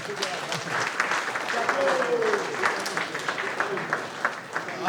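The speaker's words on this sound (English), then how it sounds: "Please, let's clap for this guy." Audience at a club's annual convention and retreat applauding after a tax bill presentation: sustained crowd clapping with a voice speaking over it.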